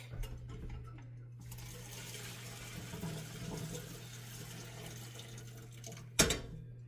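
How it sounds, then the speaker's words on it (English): Hot pasta cooking water for gochujang pork belly gnocchi is poured off into a kitchen sink, a steady soft rush of water over a constant low hum, ending with a short sharp clatter. "let me get this poured off over here in the sink"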